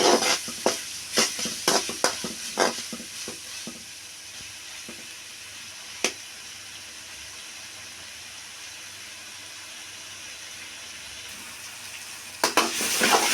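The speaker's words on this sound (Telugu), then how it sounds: "ఇది బాగా వేగేందాకా వాటిని కలుపుకోవాలండి, అడుగు మాడకుండా" Gongura leaves frying with salt in a pan, a run of sharp spatula strikes and scrapes over a steady sizzle, then mostly quiet frying with one clack and a final burst of stirring.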